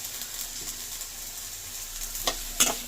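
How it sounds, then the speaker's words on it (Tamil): Pirandai (veld grape) sautéing in ghee, a quiet steady sizzle with a couple of sharp scraping stir strokes near the end. "இதை நல்லா வதக்கணும்."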